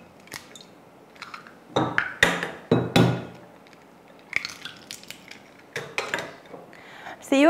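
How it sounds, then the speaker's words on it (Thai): Eggs being cracked and dropped into a mixing bowl for a Thai fluffy crispy omelette, several sharp knocks and taps spaced out among quieter handling noises, close and distinct. "เตรียมชามผสมตอกไข่ใส่ลงไป"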